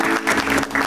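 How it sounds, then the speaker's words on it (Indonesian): Audience applause at an Indonesian talk show, a short dense burst of clapping with some harmonic tones running underneath. "Kasih tepuk tangan dulu."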